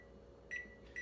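A microwave oven heating water hums steadily and gives two short, close electronic beeps about half a second apart.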